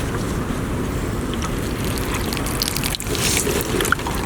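Water splashing and trickling steadily onto drooping, heat-stressed garden plants as they are watered by hand, a continuous close wash of spray with a brief dip near the end.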